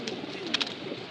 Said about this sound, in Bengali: এই পাঙ্গি ফ্যাটা কবুতরগুলো দেখতে পাচ্ছেন, ভাইব্রেশন করতেছে